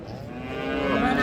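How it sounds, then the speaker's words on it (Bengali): A six-tooth Sahiwal cow with her calf at a rural cattle market lows in one long, close, loud moo. "ছয় দাঁত বয়সের গাভী"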